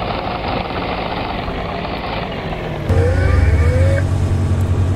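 Diesel engine of a 1-ton mini excavator running steadily on a farm, loud and close, its rumble rising to a heavier, throatier drone partway through as it is driven.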